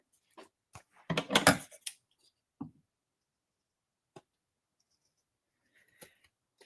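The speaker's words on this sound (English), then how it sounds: "And I just use scissors to trim off these extra parts." Scissors snip through card paper during handmade card-making, with a few close, short cuts followed by a louder, rustling run of trimming, then sparse small clicks and quiet pauses. No one talks.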